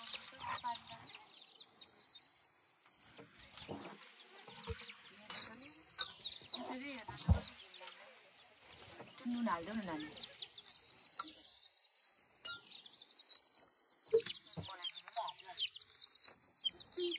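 Chickens cluck and squawk now and then close by, mixed in with talk and kitchen noise during the cooking of Rai dishes at home.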